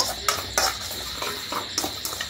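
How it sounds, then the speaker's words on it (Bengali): Vermicelli is stirred and lightly fried in a pan, with a faint sizzle beneath repeated scraping clinks of a spoon against the pan at irregular intervals. "সিমুইটা দিয়ে একটু হালকা নাড়াচাড়া করে ভেজে নেব"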